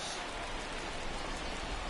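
Rain falls in the MLB 21 baseball video game as a soft, steady patter and hiss. It is quiet and even throughout the short stretch, with no voices.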